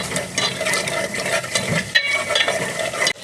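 Coarsely crushed garlic and ginger frying in a pan: busy stirring scrapes and small clatters over a light sizzle, close and fairly loud.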